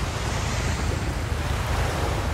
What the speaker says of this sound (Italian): Faccio vedere il mare da vicino.